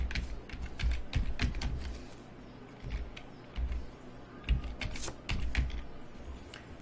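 A computer keyboard is tapped steadily to enter a channel name into a search box, a dense run of quick clicky keystrokes with short pauses, close and clear with no talk.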